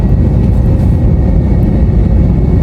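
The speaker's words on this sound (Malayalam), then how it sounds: "നമ്മൾ ലാൻഡ് ചെയ്യാൻ പോവാണ് ഗൈസ് അബുദാബി എയർപോർട്ടിലേക്ക്" A loud, steady low roar of a jet airplane landing at Abu Dhabi airport fills the cabin continuously, with no voices.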